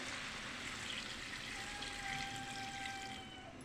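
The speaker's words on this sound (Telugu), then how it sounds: "ఇప్పుడు ఇందులోకి వాటర్ కొంచెం యాడ్ చేద్దామండి కొంచెం వాటర్" Water is poured steadily into an Andhra-style chicken curry in a pan, making a soft, continuous pouring and splashing wash that eases off near the end, with no talking.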